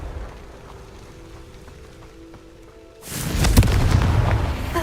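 A Confringo fire spell bursts in Hogwarts Legacy, a sudden loud booming explosion that erupts after a quieter stretch and rumbles on for nearly two seconds.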